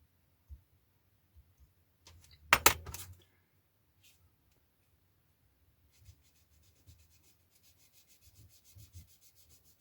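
A sanding stick rubs down raised ejector pin marks on a plastic part from a Kinetic 1/48 scale F-104J Starfighter model kit: one brief, quiet burst of scraping strokes, with faint clicks and handling noises before and after.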